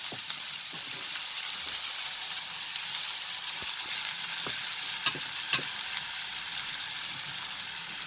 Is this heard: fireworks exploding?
no